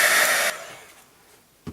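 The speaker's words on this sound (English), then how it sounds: "I'm just going to take a heat gun and just dry that paint quick." A heat gun blows hot air to dry a layer of paint on a craft background, a steady loud whir that cuts off after half a second and fades, followed by a faint thump.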